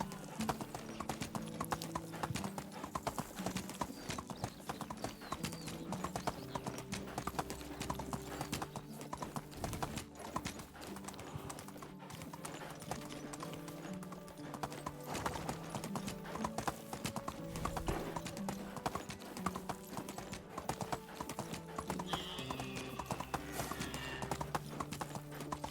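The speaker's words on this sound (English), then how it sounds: "Run, horse, run." A horse gallops in a video game with rapid, continuous clip-clop hoofbeats and an occasional whinny, set over background game music and ambient sound.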